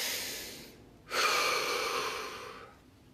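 A single long, deep inhalation drawn close to the microphone, rising sharply then slowly tapering off, after a quiet exhale.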